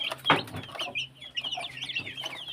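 Backyard Rhode Island Red chickens cluck and chatter nearby in short, overlapping bursts, with a few higher squawks mixed in, over faint background hum.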